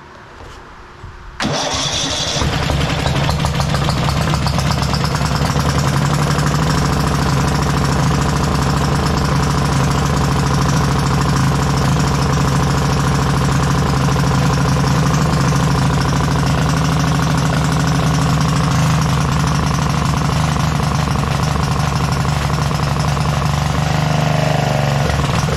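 A 1991 Craftsman LT4000 lawn tractor engine starts on choke after a short crank. It catches and then roars at a loud, steady, rough run, close by and continuing for over twenty seconds.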